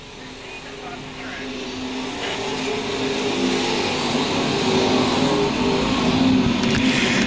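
USRA modifieds and stock cars lapping Lakeside Speedway at a nationals main event, a continuous engine roar that swells gradually louder as the field approaches, with an announcer talking over it.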